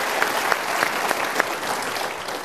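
Audience in Tasikmalaya breaks into steady crowd applause, a dense wash of many hands clapping at moderate volume with no voices on top.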